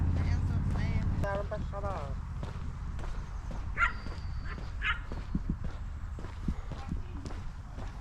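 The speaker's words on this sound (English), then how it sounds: "And little puppies." Puppies yip and bark in short bursts among footsteps and light clattering at a park campsite near Oslo, Norway, with people talking nearby.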